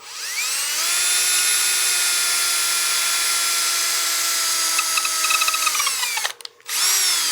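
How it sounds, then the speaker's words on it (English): A drill power-sands a wooden cake stand spinning on a lathe, a loud steady high whine held for about six seconds, briefly cutting out near the end before starting up again. "I'm going to go ahead and start power sanding"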